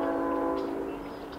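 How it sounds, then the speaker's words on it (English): A train sounds its horn as it runs along the tracks, a sustained, slightly distant multi-tone blast that fades a little near the end over low rumbling. "It almost sounds like I hear another train on the NS."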